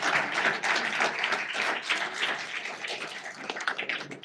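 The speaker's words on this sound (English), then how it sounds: "big round of applause for our panelists" A conference audience applauds its panelists at the close of a discussion on circularity and waste in Boston, with steady, dense clapping that carries on at an even loudness for several seconds.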